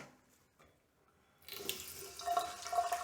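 Water from a tap starts running after a brief quiet moment, splashing and trickling close by as soap is rinsed off a Longchamp bag in a sink.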